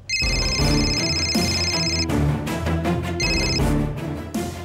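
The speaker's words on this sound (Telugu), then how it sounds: "అక్క ఫోన్ చేస్తే ఆన్సర్ చేయకుండా అలా చూస్తూ నిల్చున్నావి" A phone rings with an incoming call in a television serial scene: a loud, steady, tonal melodic ringtone repeats without pause for the whole stretch, with no voices over it.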